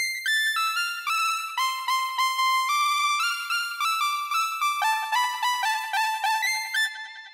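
A bright synth from the Arcade Millennium Bank, pitched up an octave and processed with effects, plays a stepping melodic line of clean sustained tones, loud and alone.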